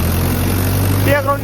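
A tractor engine idles and runs steadily close by in a steady low rumble that fills the whole stretch, with a brief tonal whine near the end and no clear speech.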